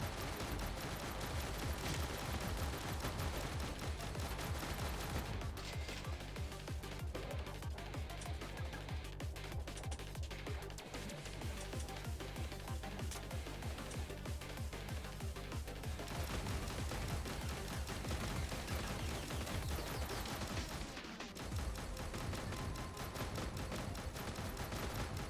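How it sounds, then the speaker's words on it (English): Machine gun fire in the video game Sentinel Girls 2, rapid continuous bursts under a dense, loud game soundtrack lasting throughout. "as long as I can keep shooting, all is well. Especially with the machine gun in hand."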